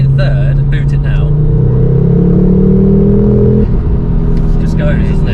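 A Mk2 Ford Focus RS accelerating hard in third gear, heard from inside the cabin: a loud, steady engine drone rising in pitch, then easing as the throttle drops near the end.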